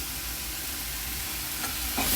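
Salted onion with added salt and mixed spices being stirred for a fish bun filling: a loud, dense, continuous scraping and sizzling wash, close up, without voices.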